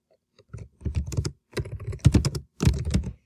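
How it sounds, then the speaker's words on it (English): Someone types on a computer keyboard, entering a name: bursts of rapid, close key clicks in several short runs separated by brief pauses. "And just type, your name, Mrs. Cruz, and then your hour."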